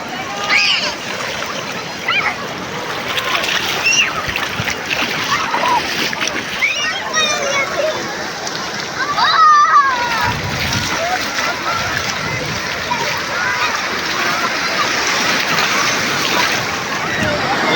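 Continuous rushing, sloshing sea water with splashes and surf-like noise throughout at Digha beach, voices talking faintly underneath.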